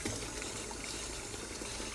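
Steady tap water runs and gushes over a coffee maker part being rinsed before a coffee pod goes in, an even, continuous splashing flow close by with no talk.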